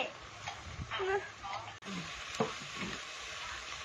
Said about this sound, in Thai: รอให้เห็ดสุก